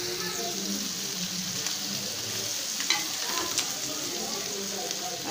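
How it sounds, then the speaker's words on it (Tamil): Crab fry cooking in a pan, with a dense, continuous close sizzle that holds an even level throughout and a couple of faint clinks. "ஒரு 5 நிமிஷம் வரைக்கும் வெந்தாலே போதும், சீக்கிரமே நண்டு வந்து குக் ஆயிடும்"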